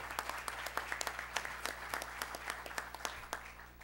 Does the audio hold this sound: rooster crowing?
no